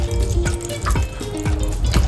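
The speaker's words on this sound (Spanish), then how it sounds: "Le vamos a poner un poco de esencia de vainilla" Vanilla essence is poured into walnut cake batter, with a few close, wet splashing and dripping sounds at a steady pace, fairly loud and with no voices.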